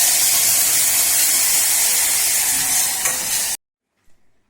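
Spices tempered in hot oil for amti crackle and hiss loudly and steadily for a few seconds, then stop suddenly, leaving a couple of faint clinks.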